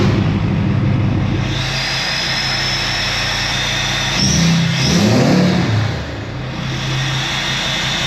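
A Ford 6.7 Powerstroke diesel truck with a hiss tune idles steadily and loudly up close, a continuous deep engine drone with a high whistling hiss, swelling briefly as it revs midway before settling back.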